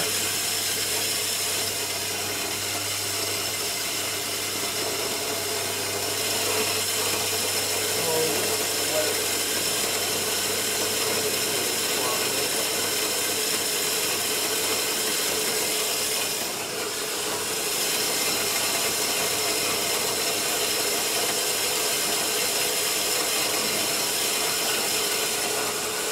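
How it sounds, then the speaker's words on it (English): A coffee machine grinds beans into powder with a steady, long, buzzing mechanical drone, fairly loud and unbroken throughout, and someone talks over it. "Actually, it takes quite a while to finish grinding."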